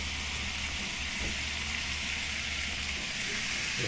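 Tofu sizzles in a pan for a kangkong stir-fry, a steady, dense frying hiss that holds evenly for about four seconds, close and fairly loud, with no talk.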